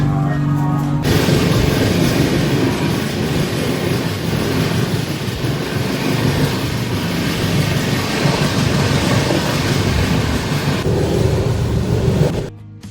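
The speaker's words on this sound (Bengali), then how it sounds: "অনেক দিন পর আবার একটা লং ট্রেন জার্নিতে বেরিয়ে পড়লাম" A long-distance passenger train on the Kolkata to Haridwar route, heard from a third AC coach, runs with a loud, steady rumble and rattle that holds unbroken for about twelve seconds before fading out.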